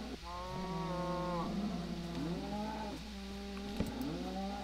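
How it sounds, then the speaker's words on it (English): Cattle in a video game lowing repeatedly, several long drawn-out moos one after another, loud and close over a steady low background hum. "Okay, cows, cows, cows."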